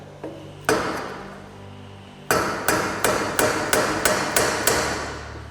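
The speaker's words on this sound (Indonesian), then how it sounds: "Jadi titik yang tadi sudah ditandai di punch menggunakan mallet." A mallet strikes a center punch on a metal workpiece to mark a drilling point: a couple of early blows, then a steady run of about eight sharp, ringing hits in even rhythm, close and loud with no talking.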